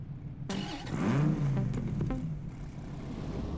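In the video game Apex Rush, a car engine starts up abruptly and revs, rising and falling in pitch for a couple of seconds before settling into a steady idle hum, heard alone.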